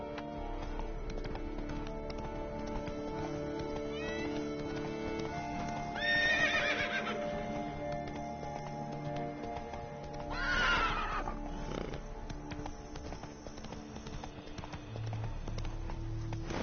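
Horse neighs and whinnies with hoofbeats in the video game Witcher 3: Blood and Wine, two loud whinnies standing out over steady background game music and ambience.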